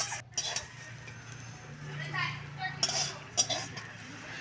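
Spices with turmeric are dry-fried in a pan, with repeated clinks and scrapes of a utensil against the metal as they are stirred, a few sharper knocks standing out near the end.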